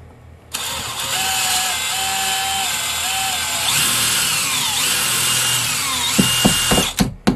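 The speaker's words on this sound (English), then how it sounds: "I'm going to drill 4-inch holes to anchor these wall anchors." A power drill drills holes for wall anchors, whirring at a steady high pitch, its tone shifting as the bit bites in, then ends with a few sharp knocks, loud and close.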